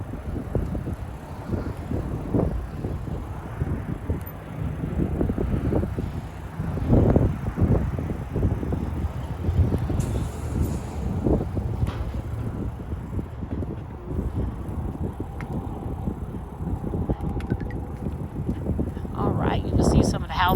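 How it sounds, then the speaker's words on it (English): Wind buffets the microphone while riders cruise on Aventon Level 2 electric bikes along a South Texas road, low gusty rumbling running throughout under ongoing conversation. "Wind's picking up a little bit."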